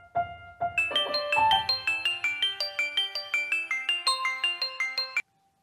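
A phone ringtone plays a bright, repeating electronic melody of quick plucked notes, loud and close, for about five seconds before cutting off abruptly.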